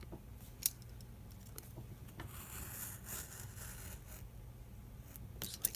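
Scissors snipping through paper while cutting out a lap book piece, a run of quiet, close crisp cuts and rubbing with a few sharper snips, no talking.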